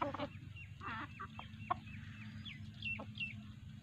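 Domestic chickens, a rooster and several hens kept at a farmhouse, cluck in short repeated bursts with a few sharper calls, fairly close over a steady low background hum.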